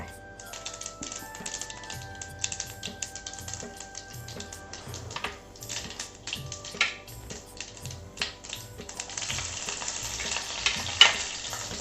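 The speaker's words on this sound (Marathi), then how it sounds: "आपण मोहरी याच्यामध्ये टाकली आहे। आता मोहरी तळली की आपण ना जिरं टाकणार आहे।" Mustard seeds frying in hot oil for a phodni tempering, with a close crackling sizzle full of sharp pops and stirring clatter that grow busier toward the end, with no talk.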